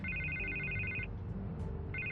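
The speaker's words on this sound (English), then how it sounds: "I can't get the phone to stop ringing." Telephone ringing in the Batman Telltale video game: a repeating electronic trill that sounds for about a second, pauses, then starts again, steady and clear over a low background hum.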